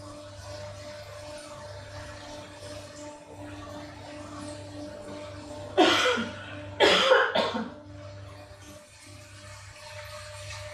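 A person coughs several times in short bursts at close range, then falls quiet, over a steady low mechanical hum from indoor exercise equipment during a cycling workout.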